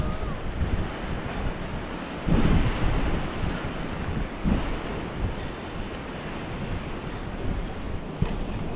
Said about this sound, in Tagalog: Relax yung tunog ng mga nababasag na alon.